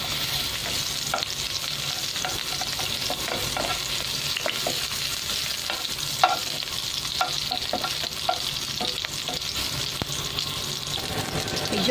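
Sliced ginger fries in hot oil with a continuous close sizzle, with scattered light clicks and scrapes from stirring throughout, and no voices.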